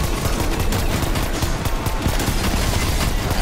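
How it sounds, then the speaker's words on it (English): Video-game machine gun fire, with loud, dense bursts of rapid shots rattling continuously and overlapping throughout, with no pause and no voices. "I would just listen out until one of those machine guns go off"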